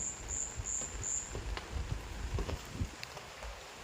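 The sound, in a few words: rain at night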